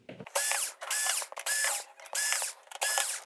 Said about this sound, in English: we can remove the screws and this board should come away from the chassis